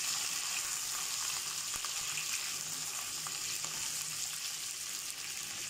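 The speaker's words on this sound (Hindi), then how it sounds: "अब मैं इसमें चिकन डाल दूँगी। चिकन से हमें खूब भूनना है।" Chicken pieces frying in oil with browned garlic, a dense, constant hiss and crackle close up, with faint stirring scrapes throughout and no voices.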